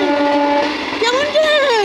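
A train sounds close by with tonal whistle-like notes that hold steady and then bend and rise, over a faint background rumble.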